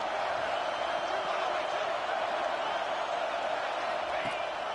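Stadium crowd at a college football game during a third-and-goal play, a steady wash of cheering and roar throughout, with a commentator speaking over it.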